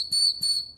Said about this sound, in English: whistle right there for signaling for kids to use, or adults if you really want to